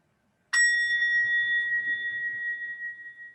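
A single meditation bell is struck once after a moment of silence, giving a clear, bright tone that rings on steadily and slowly decays over several seconds, close and alone.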